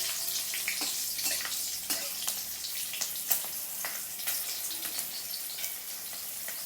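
Poppy seeds, sesame and green chillies sizzle in a pan, a steady crackling hiss broken by sharp clicks and scrapes of stirring, fairly close and with no talk.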